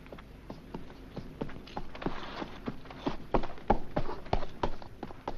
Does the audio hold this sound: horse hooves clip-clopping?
yes